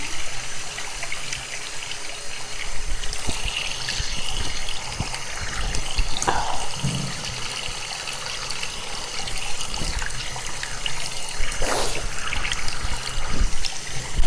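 A sink tap runs steadily while water is splashed on a face, a continuous close trickle and gush with occasional brief splashes.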